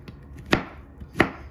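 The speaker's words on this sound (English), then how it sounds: "And I'm gonna continue to cut here." A knife chops through a pineapple on a cutting board while it is being prepared for canning, two sharp, close, distinct cuts about half a second apart, with no talking.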